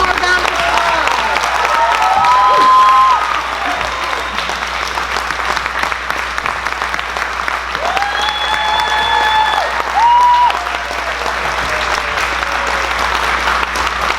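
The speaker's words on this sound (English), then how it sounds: "let's give these kids one more round of applause" Audience applause for children after a church-style program, a steady sustained round of clapping with crowd noise and some voices mixed in, swelling briefly near the start and again later.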